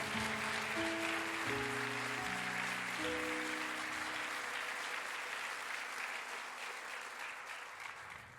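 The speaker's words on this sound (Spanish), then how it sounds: "Dele un aplauso al Señor." A church congregation gives sustained applause to the Lord during a sermon, a steady wash of clapping joined by sustained organ or keyboard chords early on, gradually thinning toward the end.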